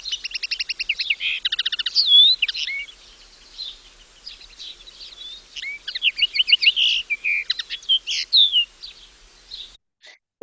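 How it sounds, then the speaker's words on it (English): Recorded birdsong with house sparrows chirping in the background, rapid bursts of high twittering trills and chirps separated by short pauses, clear and fairly loud against a quiet background. "There are house sparrows in this recording as well in the background."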